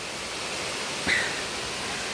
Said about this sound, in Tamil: இதாங்க அந்த வாட்டர் ஃபால்ஸ்